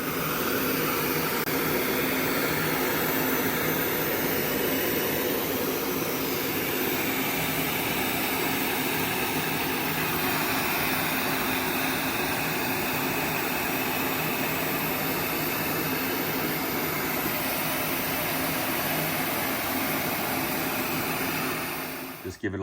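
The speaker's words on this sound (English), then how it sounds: "I'm also going to heat these up with a heat gun and just get them super dry and nice." A heat gun blows steadily on Black Rhino wheels to dry them before coating, a loud continuous broadband roar with no break across the whole stretch.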